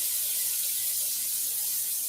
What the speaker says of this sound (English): Let's head over to the sink. Turn our, I've got some hot and cold water.